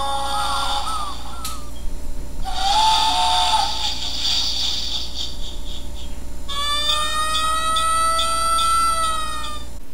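Fire engine siren sound effect from a children's picture book about vehicles: loud, continuous tonal wails that rise and shift pitch, ending in a sustained steady siren tone, with no voices.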